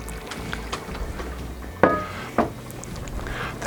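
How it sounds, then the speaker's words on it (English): A lid lifted off a pot that has simmered about 20 minutes, two sharp metallic clanks over a low bubbling background, fairly close. "we're going to quickly open up the lid"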